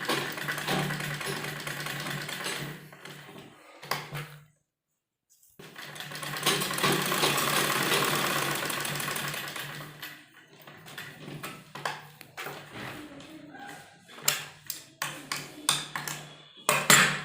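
Sewing machine stitching a suit or kurti, running in bursts: a long whirring run, a short pause, another sustained run, then a series of quick short stitching bursts, close and fairly quiet.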